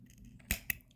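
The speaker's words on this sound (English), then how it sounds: "you're going to take your little scissors, I've got little scissors" Small scissors snipping yarn while crocheting: two crisp snips in quick succession, the first a little louder, close to the microphone against a quiet background.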